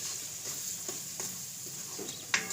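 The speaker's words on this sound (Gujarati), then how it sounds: "થોડાક આપણે રાખીશું હવે બધું મિક્સ કરી લેવું" Chana dal masala with coriander being stirred in a pan: a soft continuous sizzle with light spoon scrapes and taps, one sharper clink near the end, close but fairly quiet.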